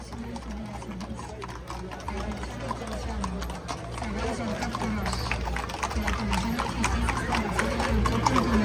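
Horses' hooves clip-clop at a bandido festival in Saint-Martin, a continuous busy patter under crowd noise and talk, growing louder toward the end.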